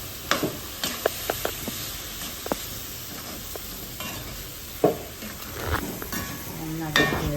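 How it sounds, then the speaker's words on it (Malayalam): Close scrapes and clinks of a utensil stirring food in a pan, with a soft sizzle beneath and a few sharper knocks, no voices. "നന്നായിട്ട് ഇളക്കി യോജിപ്പിക്കാൻ കേട്ടോ"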